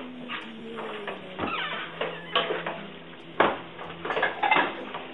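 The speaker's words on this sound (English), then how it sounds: "give me a plate and I will put some carbonara in a plate" Carbonara pasta being served from a pan onto a plate, with scattered clinks and scrapes of utensils against cookware and dishes, close and moderately loud, with brief bursts of handling noise.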